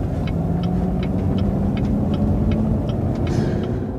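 Chevrolet Corvette Z06, a carbon-bodied 1965 build, cruising slowly around a parking lot, its engine giving a steady close rumble and throb with faint periodic ticking above it.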